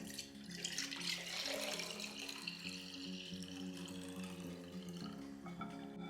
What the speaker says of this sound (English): we're just gonna pour that into here. Can we pour it without spilling?